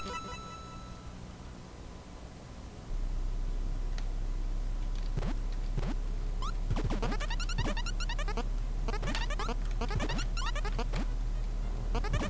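A sheep in the video game Mibibli's Quest bleats in a run of short, bright, wavering cries over a steady low hum, faint at first, then louder and repeated close together.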